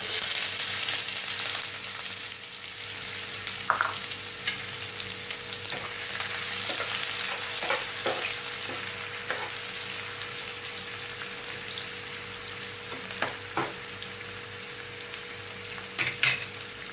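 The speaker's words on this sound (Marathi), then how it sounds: "दोन चक्रफूल दोन इलायची ह्यामध्ये घाते छोटा छोटा कट केलेला कांदा" Chopped onion sizzles in hot oil with cinnamon, star anise and cardamom, a steady moderate frying hiss broken by occasional stirring clinks and pops, with no talking.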